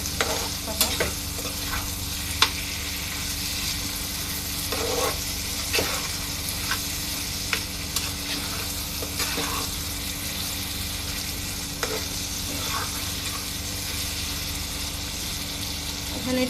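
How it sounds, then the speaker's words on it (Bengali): Taro stolons fry and get stirred with spice paste in hot oil, a steady close sizzle broken by occasional scraping taps of the spoon against the pan. "তারপরে একটু আবার ভালো তেলে ভাজবো মশলার সাথে।"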